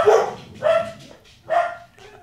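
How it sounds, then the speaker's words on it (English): A dog barks three times in quick bursts, loud and close, with a short pause between each bark and no talking over it. "My dog started barking like crazy for some reason"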